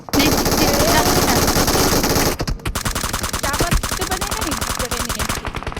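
Rapid automatic gunfire bursts from a video game shooter, loud and dense for the first two seconds, then continuing as sharper, irregular shots with scattered impacts through the rest.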